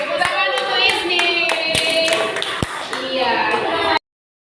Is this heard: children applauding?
yes